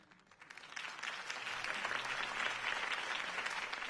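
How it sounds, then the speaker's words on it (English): Applause from a large crowd in the video game Batman: The Telltale Series swells in and holds steady, dense clapping filling the space for several seconds. "could have heard that applause"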